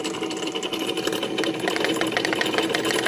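A spinning drone propeller gives a steady, buzzing mechanical whir that holds at a constant loudness for the whole stretch, with no voices.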